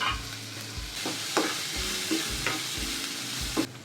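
Chopped onion fries with salt in a hot pan for a cabbage and egg bhurji stir-fry, giving a steady close sizzle broken by regular scraping stirs of a spatula, with no talking.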